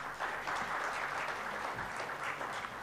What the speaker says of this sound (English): So can we please have you on the dais with a huge round of applause?